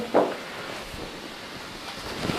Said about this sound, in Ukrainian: І бачимо, починає шкваркотіти наш бочок шпондер.